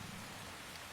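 Steady rain pouring on a surface with a low rumble of thunder beneath, a faint continuous wash with no talking.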